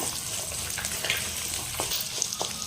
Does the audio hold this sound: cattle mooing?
no